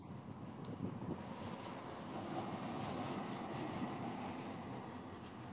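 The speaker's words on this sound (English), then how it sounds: "Here comes another streetcar." A vintage streetcar passing by on a street, a moderate rolling rumble with faint rail clatter and a few brief squeals, swelling and staying steady, heard without talk.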